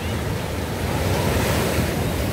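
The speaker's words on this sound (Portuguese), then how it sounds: "As ondas estão bem agitadas." Strong, rough ocean waves surge and wash up onto Copacabana beach in Rio de Janeiro, a loud, steady roar of churning surf with wind buffeting the microphone throughout, no voices.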